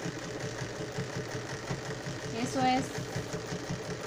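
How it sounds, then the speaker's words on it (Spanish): A sewing machine stitches a seam in a pair of trousers, its motor whirring in a steady rapid chatter with one brief swell partway through, while a person speaks briefly nearby. "Aquí en la máquina pueden ir guiándose a qué ancho quieren la costura"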